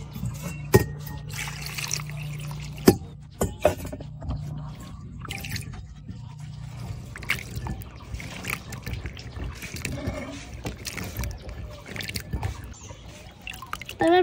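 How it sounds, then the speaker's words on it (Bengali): Red amaranth stalks are washed by hand in a bowl of water, with soft irregular splashes, drips and trickles close by, plus a few clatters and faint background noise. "তো এবার আমি সুন্দর মতন ধুয়ে নেব।"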